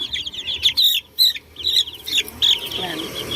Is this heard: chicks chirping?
yes